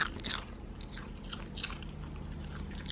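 A dog crunches on a carrot treat indoors, producing steady close-up biting and chewing crunches over about three seconds with no talking.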